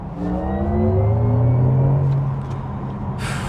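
An electric sports car, a 2025 Porsche Taycan 4S Cross Tourismo, accelerating hard, its rising whine and deep rumble swelling then easing off, close and loud with no voices.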